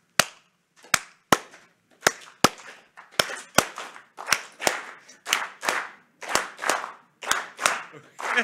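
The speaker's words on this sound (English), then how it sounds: "a special applause, the blues rhythm" An audience at a university lecture on music and emotion claps in unison to a blues rhythm, sharp hand claps falling in a steady shuffling pattern, close and distinct with short gaps between beats.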